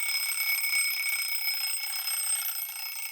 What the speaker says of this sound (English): And I'm going to make the alarm go off so you can hear it.